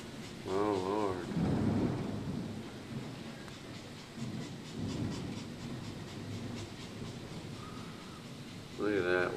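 A thunderstorm pours heavy rain that sheets off a roof, with deep rolling thunder rumbling throughout. Brief whining or vocal sounds rise near the start and again at the end.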